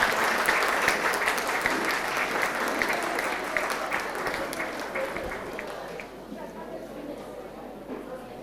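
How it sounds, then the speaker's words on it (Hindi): Loud, sustained applause from a crowd at a Guru Purnima function, dense clapping that fills the space and eases slightly toward the end. "जोरदार तालियों से स्वागत करें।"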